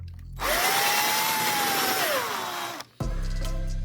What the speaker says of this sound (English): it's nothing but plastic and foam you're drilling through